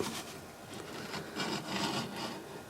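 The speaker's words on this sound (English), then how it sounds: "just the 1/8 on the left hand side of the chisel doing the cutting" A woodturning chisel cuts into a wooden bowl blank spinning on a lathe, producing a steady broadband scraping, rasping hiss with slight surges as the tool sweeps across the wood, close and continuous with no talk.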